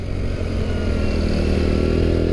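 Motorcycle riding on a road, its engine a steady, dense, close drone that stays loud and unbroken throughout the short stretch, with no voices.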